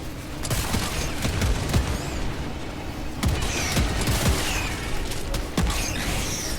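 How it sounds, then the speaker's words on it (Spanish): Gunfire in a shooting video game, with dense repeated shotgun blasts and clattering mechanical noise in a loud, continuous barrage of sharp bangs and no clear voices. "Trata de no dispararle a los vatos"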